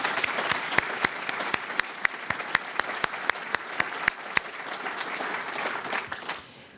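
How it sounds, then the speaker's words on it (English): An audience at an awards celebration applauds award winners, dense sustained clapping from a full room with a few louder individual claps standing out, tapering slightly at the end. "Another round of applause for our award winners."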